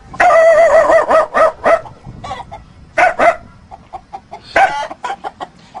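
A human voice imitates a dog barking in a string of loud, rhythmic woofs, close and clear, with short pauses between bursts.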